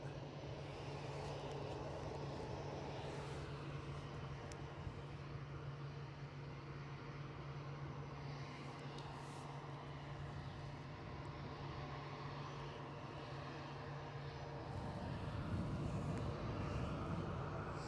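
An EasyJet Airbus A320 airliner on approach to Edinburgh airport gives a steady, broad engine roar with a low hum running underneath, swelling slightly louder near the end.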